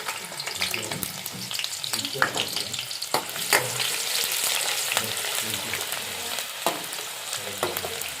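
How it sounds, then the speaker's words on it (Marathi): Onions frying in hot oil for a Maharashtrian jackfruit usal, a steady sizzle with scraping stirs and a few sharp clinks of the spoon against the pan, close and without talk. "कांदा लाल होईपर्यंत परतून घेऊया"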